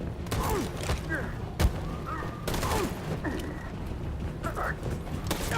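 Gunfire rattles in a tense firefight in Detroit: Become Human. Bursts of shots and thuds sit over a dense rumble, with one sharp boom standing out. Shouted voices from the game carry through the din.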